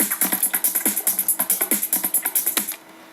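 Layered tribal percussion tracks from an electronic music production, playing together as a fast steady pattern of bright, crisp hits with a low thud on some beats, stopping abruptly near the end.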